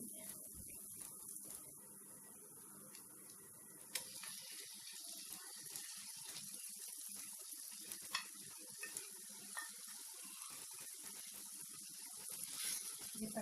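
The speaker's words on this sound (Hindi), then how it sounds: "अब हम इसके अंदर पसंदे शामिल करेंगे।" Chicken pasanda slices go into a pan of spiced mixture with garlic and sizzle softly and steadily, with faint stirring scrapes and a few clicks over the hiss and no talking.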